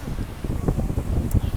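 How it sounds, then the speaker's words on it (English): Wind blowing outdoors on a beach, gusting against the microphone in low, uneven buffeting bursts that stay close and fairly loud throughout. "It's windy here."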